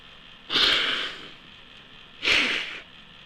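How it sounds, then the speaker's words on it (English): Two sharp, breathy bursts about two seconds apart, like sneezes or forceful snorts, close and fairly loud against a quiet background. "I didn't mean to sneeze in front of you into your ear."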